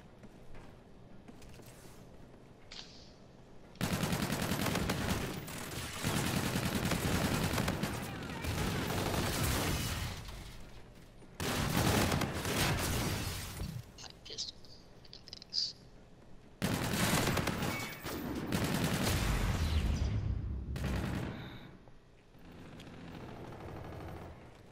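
Gunfire from the video game Call of Duty: Infinite Warfare: loud, dense bursts of rapid automatic shots in three long volleys, separated by quieter gaps of lower in-game sound.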